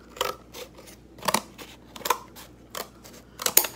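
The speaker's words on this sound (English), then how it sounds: "I'm gonna cut up, and I'm gonna cut up again on the other side." Scissors snipping through paper sheets to shape a cone for a school volcano project, six or so distinct crisp cuts at uneven intervals, close and clear with no talking.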